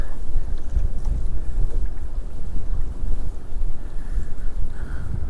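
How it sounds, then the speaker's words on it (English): Strong wind buffets the microphone on open water while kayaking, with tide running against the wind; a loud, continuous low roar with gusty rumbling and faint water slap, no voices. "this wind is making it pretty difficult"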